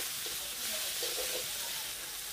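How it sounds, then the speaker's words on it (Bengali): Spices with turmeric powder and salt hiss and sizzle in a hot pan, a short, soft, continuous fry with no voices. "হলুদ গুঁড়ো, লবণ, সব কিছু মশলা ভালো করে কষিয়ে নেব।"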